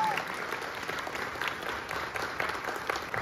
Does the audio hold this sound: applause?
yes